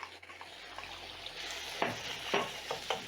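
Minced meat frying with onions in a pan, broken up and stirred with a spatula; a steady sizzle runs under a few soft scraping strokes, with no talking.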